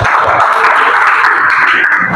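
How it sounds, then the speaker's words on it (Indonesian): Classroom applause for a student named Aura, with steady, close clapping from a group that holds even throughout without any pause. "Oke, tepuk tangan buat Mbak Aura."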